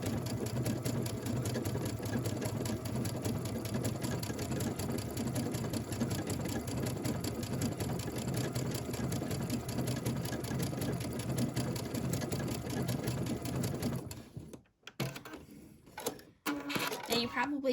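A Babylock sewing machine stitches steadily with a bridging plate, a fast continuous mechanical whir and needle patter running for about fourteen seconds before stopping, followed by a few handling knocks.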